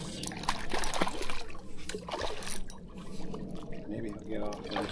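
A hooked striped bass splashes and thrashes at the water's surface during lake fishing near Las Vegas, giving steady sloshing and trickling water noise that carries on throughout, fairly close and loud.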